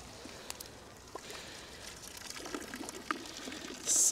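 Water splashes and trickles steadily, pouring out of a soaked office chair in an uneven stream with small gurgles, close by, ending in a brief louder burst.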